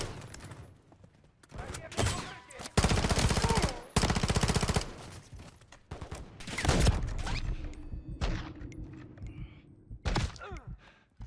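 Rapid automatic gunfire in the Modern Warfare 3 campaign, loud sustained bursts with brief pauses, followed by quieter scattered shots and low rumble, with faint voices underneath.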